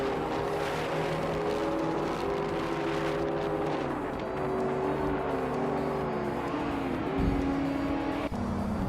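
Slow-class race cars circle the hilly, tight-cornered Bathurst circuit in a racing game, engines droning steadily at close range with shifting pitch as cars run nose to tail; no talk.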